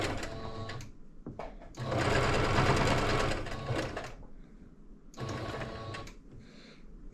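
A sewing machine stitches blackout curtain fabric in close, loud whirring bursts, one long run and a shorter one, with brief pauses between them.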